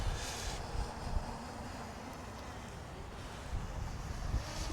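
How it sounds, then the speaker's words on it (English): Steady wind of about 14 mph buffeting the microphone high above open farmland, a constant low rumble with gusty swells throughout and no one talking. "There is a 14-mile-an-hour wind, so it is probably going to be a bit rocky."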